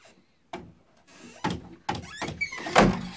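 A closet door is pushed shut in a home, giving a few separate thuds and knocks with rustling between them, near and moderately loud, ending in a firmer closing bang.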